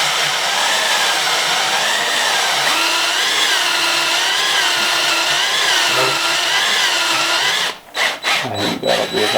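A power drill spins a Christensen Arms MPR 6.5 Creedmoor rifle part coated in fine-grit lapping compound, a loud continuous whine with wavering pitch that runs steadily, then stops abruptly, followed by brief handling clatter.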